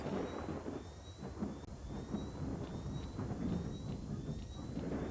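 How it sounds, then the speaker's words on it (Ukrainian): A thunderstorm in S.T.A.L.K.E.R.: Shadow of Chernobyl rumbles in a low, continuous roll with rain hiss throughout, plus a faint steady tone above, with no break. "В зоні гроза."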